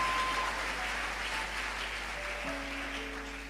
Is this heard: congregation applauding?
yes